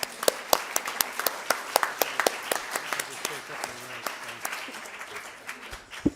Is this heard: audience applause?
yes